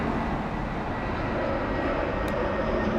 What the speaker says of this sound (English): This is EasyJet flight 13 inbound from Milan, from Linate Airport